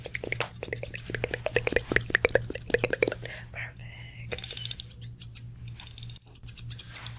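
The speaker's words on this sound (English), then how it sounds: "Let's just trim that beard from all angles here." Barber scissors trim a beard in quick crisp snips, close and in a steady rhythm over a low hum. The snipping comes in short bursts, with soft whispered talk in between.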